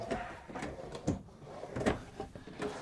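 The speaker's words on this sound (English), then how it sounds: "And these are soft closed, so if you get them closed, they'll pull themselves back in." Soft-close kitchen drawers in a 2021 Newmar Bay Star 3014 gas motorhome slide and close softly a few times in a row, muted thuds and gliding sounds at close range in a quiet room.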